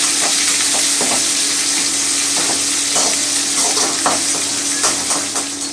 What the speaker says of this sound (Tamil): பூண்டு ஒரு கொட்டு அப்படியே அள்ளி போட்டுட்டேன் வதக்கிக்கலாம்